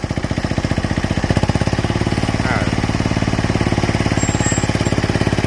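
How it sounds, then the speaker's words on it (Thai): A ROBIN diesel crawler dumper from Japan, a used one-ton hydraulic tipper, runs loud and close with a steady, rapid chugging pulse, its engine note holding firm and slightly rising as it revs. "เร่งเครื่องหน่อย"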